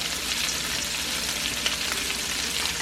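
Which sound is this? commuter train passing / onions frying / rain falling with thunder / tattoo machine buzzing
onions frying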